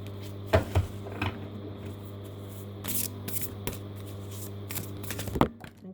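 Oracle cards being shuffled during a card reading, a few quick soft riffles and slaps up close over a low steady hum.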